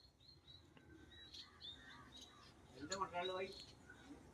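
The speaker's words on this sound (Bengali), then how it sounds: "প্রচুর পরিমাণে পাখি আছে, ধান ভুঁইতে সব বসে বসে খাচ্ছে" Small birds, sparrows feeding in a rice field, chirp and tweet in scattered bursts, with a denser flurry of calls midway, over faint outdoor background noise and occasional voices.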